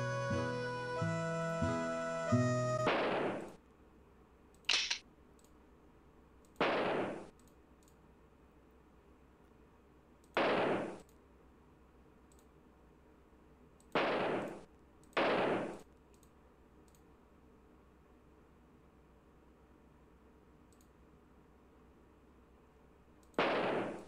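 Gunshots from hunting in the 1995 computer game Oregon Trail 2, a series of six sharp, isolated bangs spaced a few seconds apart after a brief burst of game music, with near silence between shots.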